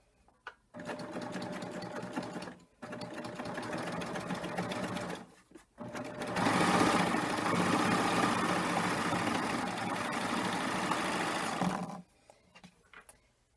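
A serger overlock machine sews a wide overlock with very heavy thread at slow to medium speed, a close steady mechanical whir in three runs separated by short pauses, the longest run slightly louder.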